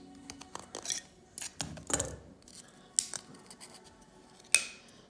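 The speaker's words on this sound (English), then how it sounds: "Just a good pair of scissors will take care of this." Scissors snip repeatedly at close range through a Fancy Feast cat food can, a series of sharp, uneven cuts with quiet rustling between them.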